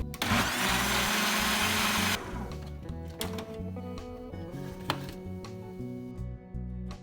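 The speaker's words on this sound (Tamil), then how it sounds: "இப்போ இதெல்லாம் நல்லா நாங்கள் பிளெண்ட் பண்ணி எடுத்துக்கொள்வோம்" A blender whirs loudly for about two seconds while mixing milk powder, sugar and water, then cuts off, leaving clattering and tapping of the jar and utensils.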